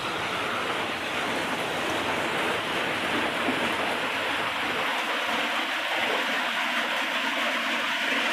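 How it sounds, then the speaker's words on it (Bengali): Steady broadband roar of strong wind and rain during cyclone Remal beside a railway line, continuous and loud throughout with no voices. "এই হাওয়া যেরকম দিচ্ছে সেই সাথে বৃষ্টি হচ্ছে"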